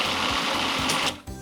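A large kitchen blender whirs steadily at high speed while blending whole-skin ingredients for a chicken spice curry, then cuts off near the end with a brief restart.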